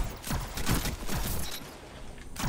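Scout rifle fire in the Destiny video game, a handful of sharp shots spaced in an irregular rhythm amid busy mechanical game noise, fairly close and loud.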